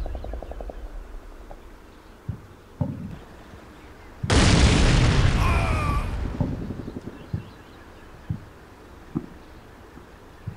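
A missile hits a Toyota air defense technical in Combat Mission Shock Force 2. One loud, close explosion roars for about two seconds and fades out, with quiet thuds and ambience around it.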